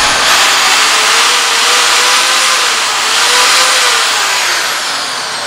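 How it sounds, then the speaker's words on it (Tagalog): An INGCO 650W impact drill runs continuously with a steady, loud high-pitched motor whine that holds at a constant pitch and level for several seconds, with no voices over it. "So yan, ito yung impact drill na Inco."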